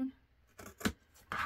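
Scissors snip through a 2-inch craft fabric strip, a couple of short crisp cuts at close range, the last one slightly longer, with no talk.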